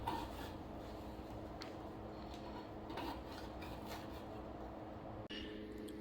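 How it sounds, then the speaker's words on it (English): Abrasive cord rubs back and forth along the metal shark fin of a Salvimar Metal speargun, a steady low rasping scrape that continues throughout at moderate closeness. "Just gonna grab it and start smoothing out that shark fin."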